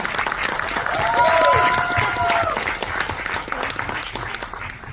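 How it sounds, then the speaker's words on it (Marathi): A burst of applause from a crowd, with a whistle rising over the clapping before it thins out toward the end. "जोरदार टाळ्या प्रियावयांसाठी झाला पाहिजे"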